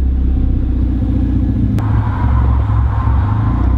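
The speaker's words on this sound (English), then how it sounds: "all that's happening is it's misfiring at idle" A turbocharged Mazda Miata engine idles roughly and unevenly, misfiring, with a steady low rumble that wavers and stumbles throughout, recorded close and loud with no talking.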